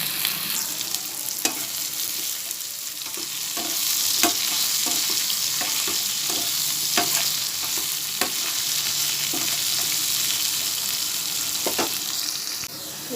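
Potatoes fry in oil in a pan for a Bengali tangra fish curry, a steady close sizzle punctuated by repeated sharp spatula scrapes and taps as they are stirred.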